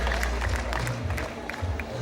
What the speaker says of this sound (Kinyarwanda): Yes, amashyi menshi cyane kuri Saha Kamire.